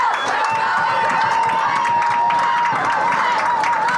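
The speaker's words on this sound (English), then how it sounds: "So the crowd's energized now after 2 Canton scores" A packed high school football crowd cheers steadily on opening day, a dense, loud roar of voices with clapping and whoops blending together, holding constant from start to finish.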